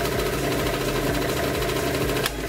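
A scooter engine runs at a steady, loud idle with a rough, knocking rumble, then cuts out abruptly near the end as it is switched off.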